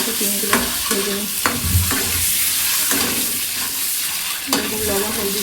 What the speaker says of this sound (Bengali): এরকম লবণ হলদি যদি দিয়ে আগে ভাজা যায়, কোনো কিছু আউলে না আর কি